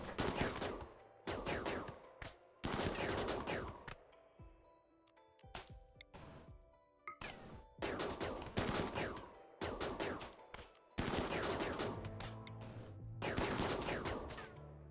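Automatic gunfire from a colony firefight in the video game RimWorld comes in repeated loud bursts of rapid shots, separated by brief pauses across the whole stretch.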